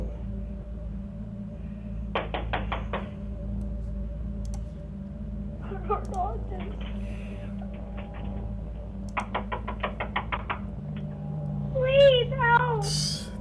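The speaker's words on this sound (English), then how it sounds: "pounding her hand against the door" A woman's hand pounds against a door in two bursts of rapid, sharp knocks, with quieter wavering vocal sounds and a low steady hum between them.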